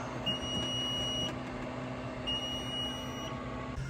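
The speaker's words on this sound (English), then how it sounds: "Since I'm opening the top of this, the alarm's going off." An incubator alarm, triggered by opening its top, beeps in two long, steady high-pitched tones separated by a pause, over a low mechanical hum.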